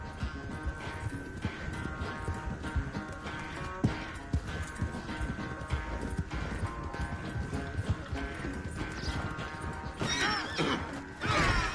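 Horse in Red Dead Redemption 2, with whinnies and clip-clopping hooves over a dense, continuous game soundtrack and ambience, louder in the final seconds.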